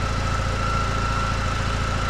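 An 11-horsepower small air-cooled engine on a tractor runs at a steady idle: a continuous, even mechanical drone with a low throb, close by and without talk.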